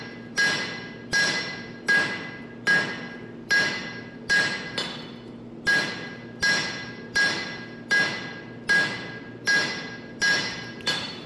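Steady hammer blows ring out on an anvil as a knife tang is forged for a honesuki kitchen knife, about a dozen evenly spaced, loud metallic strikes, each with a bright ringing tail, and no talking.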